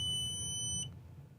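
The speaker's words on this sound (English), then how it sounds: "Continuity beep is loud, but not super fast and not latching when you're in auto mode" A digital multimeter in auto mode gives a loud, steady continuity beep as its test leads are touched together. The single sustained tone lasts nearly a second and then cuts off, leaving faint room noise.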